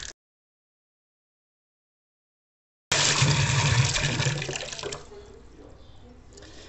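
Water rushes into a toilet tank after a new fill valve and accordion-style siphon hose are connected, starting abruptly as a loud, steady gush after near silence, then easing to a quieter, continuous trickle as the tank fills.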